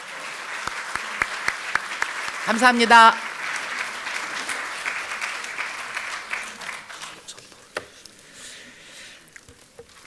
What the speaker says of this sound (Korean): 박병석 의원님과 김상희 의원님께 격려의 박수를 부탁드립니다.